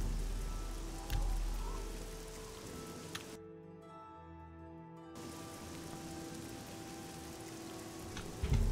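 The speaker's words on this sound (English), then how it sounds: "We're just gonna stand there in the rain." Steady broadband rain patters down in the fantasy role-playing game Oblivion, a continuous hiss of drops on surfaces with faint background game ambience and a brief quieter gap midway.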